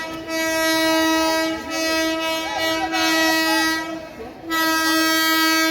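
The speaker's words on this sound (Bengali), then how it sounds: "বন্ধুরা আমাদের ট্রেন এখন ঢুকছে বনগাঁ শিয়ালদা এসি লোকাল 2 নম্বর প্ল্যাটফর্মে।" A Bongaon–Sealdah AC local train pulls in at platform 2, sounding a loud, sustained horn close by in several long blasts with brief breaks, over a rumbling background.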